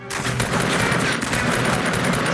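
Rapid, continuous automatic gunfire from the Fortnite video game rattles loudly and steadily throughout, with no pauses and no speech over it.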